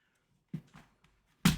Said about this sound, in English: I'm blowing some dust off of my keyboard